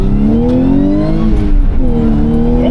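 Audi B8.5 S4 with drivetrain upgrades accelerating on a drive, a loud, close engine whose pitch climbs steadily, dips briefly as it shifts, then rises again, heard without talk.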